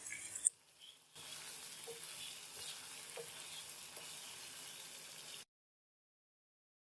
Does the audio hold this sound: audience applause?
no